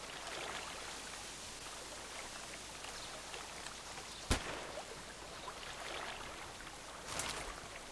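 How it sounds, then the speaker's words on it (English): Flowing water ambience on the Lighthouse map of the online shooter Contract Wars: a faint, steady wash of trickling water with one sharp knock midway and a softer burst near the end. "I love the water sound."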